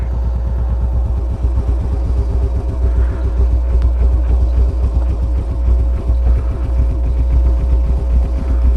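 A motorcycle on a stand idles with no throttle, a steady loud rhythmic engine chug close by that runs unbroken with no voices.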